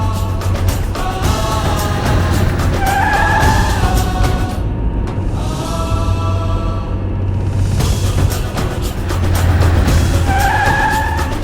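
A car drives fast with tires skidding and squealing, engine noise sustained throughout, the squeals rising in two loud bursts near the start and end.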